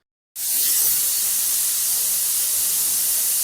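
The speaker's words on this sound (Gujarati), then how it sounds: "હવે આપણે કુકરનું ઢાંકણ બંધ કરીને 5 વિસલ વગાડી લેશું" A pressure cooker with green corn inside releases steam in one loud, steady hiss that starts abruptly and holds without a break.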